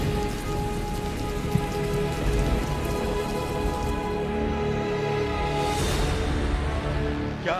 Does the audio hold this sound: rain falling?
yes